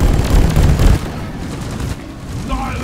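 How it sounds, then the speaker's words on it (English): Rapid bursts of gunfire from Deep Rock Galactic, loud and dense in the first second, then thinning into a busier game mix with chatter and effects. "Stop shooting me!"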